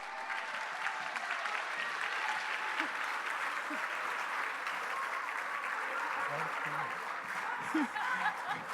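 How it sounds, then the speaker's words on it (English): An audience at a charity gala gives a sustained round of applause, steady dense clapping from a large crowd in a hall, with a few chuckles and light laughter mixed in. "please give yourselves a big round of applause"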